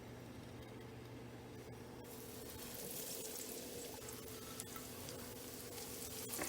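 Chicken cutlets for chicken parm fry in a hot pan, a steady broadband sizzle that swells slightly after a couple of seconds, with occasional small pops and clinks over a low constant hum.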